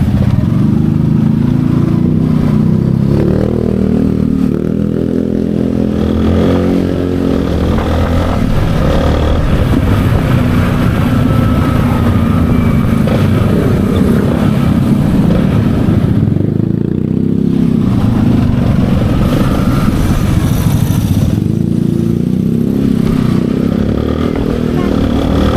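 Motorcycle engine running steadily at idle with a rough, clattering drone, close and loud throughout, with voices faintly underneath.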